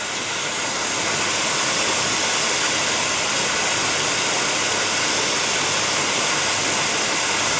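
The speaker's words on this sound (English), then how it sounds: "You can see how powerful the steam is." Steam wand on a Wendougee Space espresso machine with a saturated group blasts a loud, constant broadband hiss, powerful and unbroken from start to finish, close to the mic with no voices.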